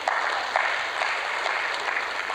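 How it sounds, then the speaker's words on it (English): Audience applauding during a speech at a trade summit in Algiers, a dense, steady patter of many hands clapping from across a large hall, with no talking. "I think we should clap for that."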